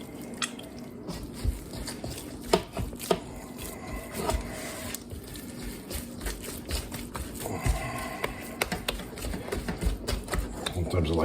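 Fingers slap and pat sticky Irish soda bread dough worked with olive oil, giving a steady stream of close, wet little smacks and taps, with some talking mixed in.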